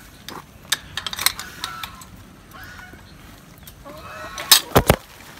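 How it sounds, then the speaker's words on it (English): Chickens in a flooded backyard food forest give scattered clucks and short squawks, moderately close, with a louder burst of calls near the end over steady background noise. "Our poor chickens."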